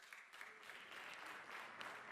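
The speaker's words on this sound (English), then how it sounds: "Let's give him a big round of applause as he comes up." At a faith and community advocacy session in Accra, the audience welcomes the moderator with continuous applause that swells slightly and holds, heard faintly and somewhat distant, without talk.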